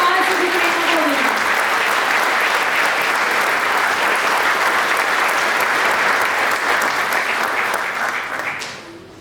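An audience applauds award winners of the 9 November commemorative plaque at a formal municipal ceremony in Veles. The steady, dense clapping lasts about eight seconds, then fades quickly at the end. No one speaks.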